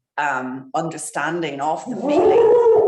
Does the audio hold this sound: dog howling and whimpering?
yes